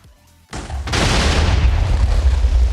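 Minecraft TNT packed into a smeltery building detonates in one loud blast after a quiet lead-in, then a dense, sustained roar of chained explosions rumbles on to the end.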